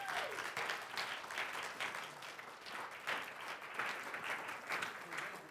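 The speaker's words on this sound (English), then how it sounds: "let's give them a round of applause" Fairly faint but continuous applause from an audience cheering trophy winners at an awards presentation, a dense patter of many hands with slight swells, heard without talk.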